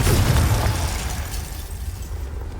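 Confringo fire spell blast in the wizarding game Hogwarts Legacy: a loud, close explosion at the start, fading into a low rumbling tail and debris noise.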